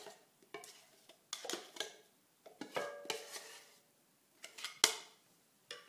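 Metal spoon scraping and clinking against a mixing bowl while scooping thick sweetened condensed milk from a large can, with scattered close taps and scrapes separated by brief quiet gaps.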